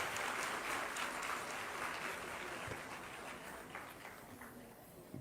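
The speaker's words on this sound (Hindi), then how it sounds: "माननीय मुख्यमंत्री महोदय, जोरदार तालियों के साथ स्वागत हो सभागार" An auditorium audience welcomes the chief minister with applause, a sustained wash of many hands clapping that holds steady and eases toward the end.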